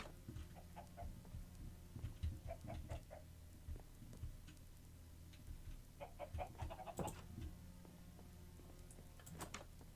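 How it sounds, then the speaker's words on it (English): Video-game chickens, Minecraft style, cluck in short, soft, scattered bursts at low volume over a quiet steady background, several birds calling in irregular clusters. "Come on, my chickens. You're all grown up now."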